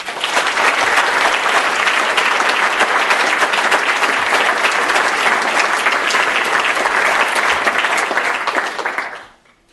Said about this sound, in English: give both these guys a big round of applause